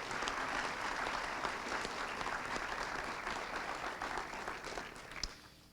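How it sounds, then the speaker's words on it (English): A hall-of-fame ceremony audience gives a sustained round of applause, dense and even, fairly distant and soft, tapering slightly toward the end with a single sharp clap near the finish. "Let's give them another round of applause, ladies and gentlemen."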